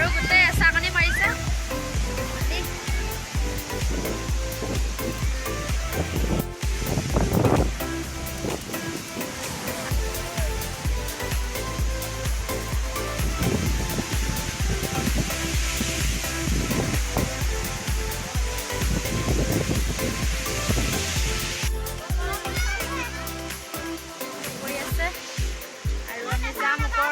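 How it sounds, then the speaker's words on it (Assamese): Water crashes steadily at a waterfall with strong gusting wind, a loud continuous roar that stays broad and unbroken for the whole stretch, with a voice talking briefly over it. "এয়া পানী পৰি আছে বহুত বতাহ মাৰিছে"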